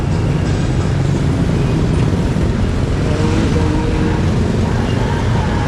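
Steady roadway traffic on a city avenue near a city hall under demolition, a continuous broadband wash of car and bus engines and tyres passing at moderate distance, with faint voices mixed in.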